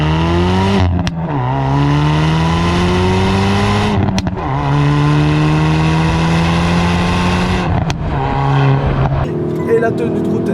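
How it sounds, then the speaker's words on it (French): Hyundai i30N Performance hot hatch accelerating hard, engine rising through several gear shifts with brief breaks between pulls and crackling exhaust near the end, loud and close. "Et ça pousse, et ça pète bien l'échappement aussi."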